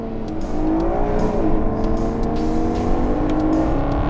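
Maserati GranTurismo accelerating away in economy mode, a close engine drone whose pitch climbs smoothly through the rev range, steady and fairly loud throughout.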